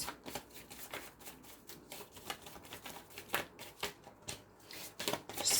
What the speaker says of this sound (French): je fais le tirage sentimental avec quelques cartes du Wisdom Oracle